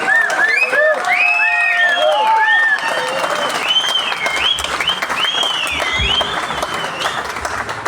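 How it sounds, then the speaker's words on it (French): Festival crowd at an outdoor live reggae show applauding a band with dense, steady clapping and cheering, while high whoops and shouts rise over the top throughout. "Et vous pouvez les applaudir."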